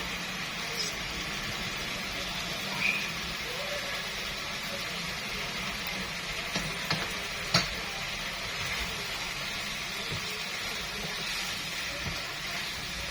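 Liver frying in a pan as spices go in and get stirred, a steady close sizzle with a few faint clinks and scrapes from stirring over roughly thirteen seconds.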